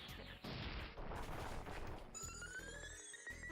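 Explosion move effect in the Pokemon game Pokerogue: a burst of crackling, rapid blasts like a fusillade, followed by a ringing, descending synthesized tone as the effect fades.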